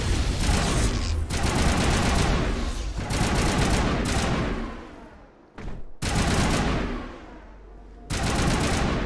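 Turret gunfire in the Mass Effect video game, loud rapid bursts of shots in several long volleys separated by brief pauses.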